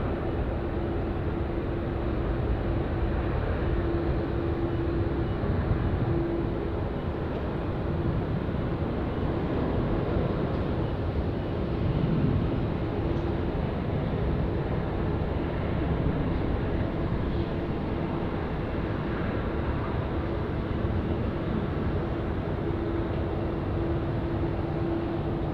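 A Qantas heavy international airliner taking off at Sydney Airport, a steady, loud broadband engine roar sustained throughout with a faint hum, no talk.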